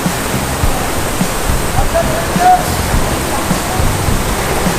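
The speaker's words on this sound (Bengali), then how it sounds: "এখান থেকে জলটা পড়ছে আর মনটা একদম ঠান্ডা শীতল হয়ে যাচ্ছে" Moti Jharna waterfall in Sahibganj, Jharkhand: a steady, close rushing roar of falling water, continuous and even, with faint voices in the background.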